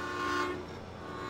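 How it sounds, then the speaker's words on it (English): A train in the Farming Simulator 17 video game sounds a brief, steady, harmonic horn note that swells and then fades within about a second, over a constant low mechanical hum. "Train."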